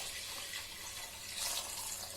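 Water pours steadily in a continuous soft hiss as it is added to a jar and to rice cooking in a pot for coconut rice, with no talk.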